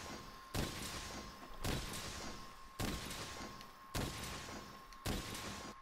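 Heavy Bowgun firing spread ammo in Monster Hunter World, five heavy booming blasts roughly a second apart, each with a long rumbling decay, loud and close with no talk.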